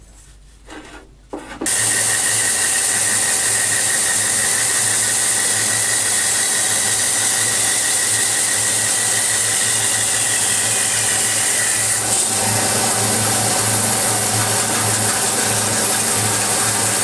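A bandsaw trims the corners off a thick wooden board for a handbag and shoe board. After a brief quiet start it runs loud and steady with a continuous whining hum, and the pitch shifts partway through the cut.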